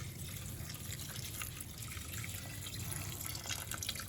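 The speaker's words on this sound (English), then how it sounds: "I'll be adding in water again so that it covers the vegetables" Pre-boiled water pours into a deep hotpot over layered cabbage and pork, giving a quiet continuous splashing trickle that stays faint and steady throughout, with no talking.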